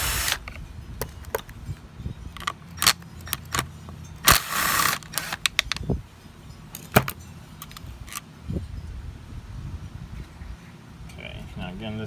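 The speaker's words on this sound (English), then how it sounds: "Take the carburetor out." Stihl MS290 chainsaw carburetor being removed by hand, with close metallic clicks, clinks and rattles of small parts and tools in irregular bursts, a loud clatter midway, low background rumble and occasional talk.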